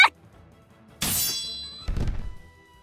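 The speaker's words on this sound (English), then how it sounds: "the man is slammed to the ground with a tremendous thud" In a Japanese period drama, a man is slammed to the ground: a sharp metallic ring opens into a heavy impact, then a second deep thud and rumble follow, loud and close.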